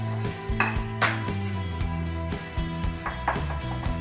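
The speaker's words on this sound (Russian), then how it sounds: "Сформированные чебуреки отправляю в хорошо разогретое масло." Chebureki sizzle in a large amount of well-heated vegetable oil, a steady close frying hiss with soft clinks and taps of utensils against the pan scattered throughout.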